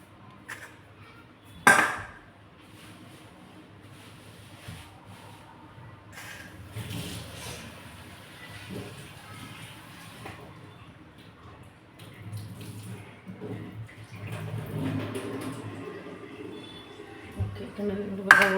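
Water runs in a kitchen sink while something is rinsed a second time, a steady low splashing that grows busier and louder toward the end, with a few clinks of dishes and no speech.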